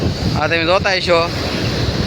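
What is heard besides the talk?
big sea waves in a storm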